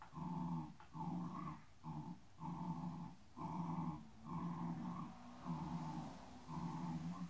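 A dog offering trick behaviors during training makes repeated growly grumbling and whining vocal noises in steady bursts with short pauses, close and fairly loud, with no talking.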